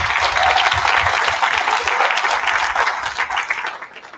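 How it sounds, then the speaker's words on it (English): A crowd at a beef cattle show claps for the show organisers, a steady, dense round of applause that holds strong before tapering off in the final second. "I think a big round of applause needs to happen for everyone that put on the show and making this thing be able to happen"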